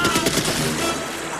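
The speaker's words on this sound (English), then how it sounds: "Rambo shooting guys off a boat or blasting through Russians and VC guards in the POW camp" Gunfire effects from the film Rambo: First Blood Part II, a loud, rapid burst of close shots that quickly blurs into a booming, reverberant roar, with no voices.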